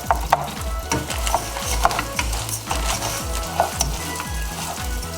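Pieces of chile verde fry and brown in oil, giving a strong continuous sizzle broken by rhythmic scraping and stirring knocks against the pan, close and without speech.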